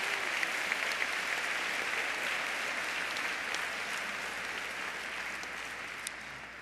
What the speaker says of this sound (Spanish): Un aplauso para mi Dalila.